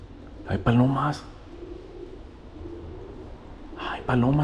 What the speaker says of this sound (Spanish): palomas, gente, hay palomas.